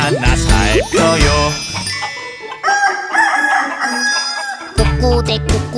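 A mother hen clucks and crows in a Korean children's cartoon song. Several loud, close squawking calls come in bursts over bright music.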